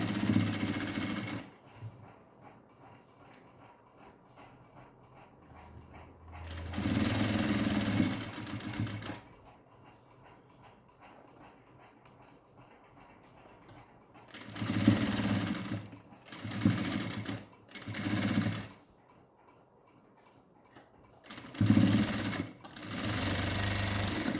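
Sewing machine stitching piping fabric onto a blouse sleeve, running in several close, loud bursts of rapid mechanical chatter separated by quiet pauses.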